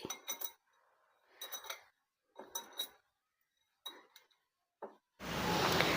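Spoon clinking against a glass while stirring a mixture, several short bursts of ringing taps in a quiet kitchen, closely recorded and alone, ending with a steady rush of noise.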